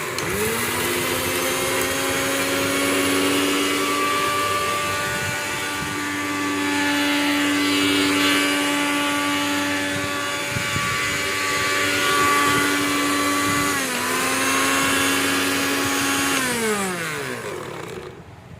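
A kitchen mixer grinder whirs loudly as it grinds poppy seeds: a steady, whining motor hum with strong harmonics that dips briefly in pitch midway, then winds down near the end.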